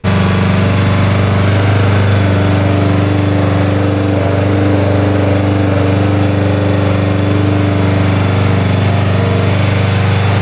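A built Subaru STI engine running with a slight misfire, producing a loud, continuous droning hum with a rough, uneven edge and no voices.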